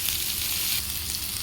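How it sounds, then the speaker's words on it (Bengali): Potatoes fry in hot oil with black cumin, giving a dense, close, continuous sizzle with a slight shift in texture partway through. "আলুটা ভালোভাবে ভেজে নেব"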